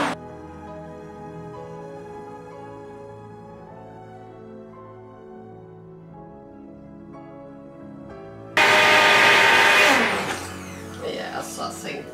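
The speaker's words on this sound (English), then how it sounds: "going to blend this wonderful mixture" A pink kitchen blender whirs through a strawberry and orange mixture, starting abruptly after a quieter stretch of low humming and running loud and close for several seconds before easing to uneven chopping surges.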